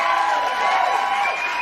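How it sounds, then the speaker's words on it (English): A studio audience claps and cheers as a show opens, a dense, lively wash of applause and whoops, brief and close. "Keep clapping."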